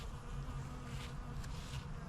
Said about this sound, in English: It's just humming in the raspberry patch right now.